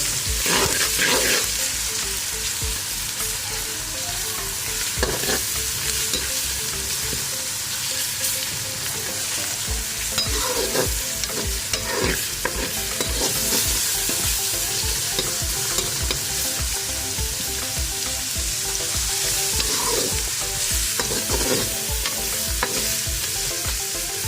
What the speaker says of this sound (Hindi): दो से 3 मिनट तक अदरक लहसुन का पेस्ट जो हमारा है वो फ्राई हो चुका है।